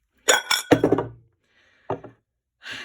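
A heavy 1970s Indiana Glass reproduction Madrid glass piece, already chipped, is dropped and gives a few sharp ringing clinks and knocks, close by, followed by a fainter tap, with no talking.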